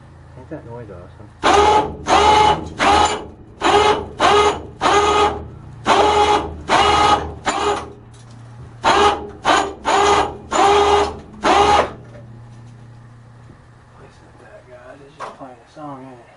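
Winch dragging junk metal on a strained winch cable, producing a loud, nearby run of repeated grinding mechanical pulses in an uneven rhythm over a low steady hum, then fading to quiet.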